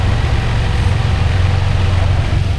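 Motorcycle engine idling on a street in Kobe or Osaka, Japan: a steady, loud, low throbbing rumble held without pause throughout, close by.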